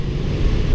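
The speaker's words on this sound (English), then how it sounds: "You can hear some generators in the background" A steady low engine drone of generators running in the background during a typhoon, with no talking.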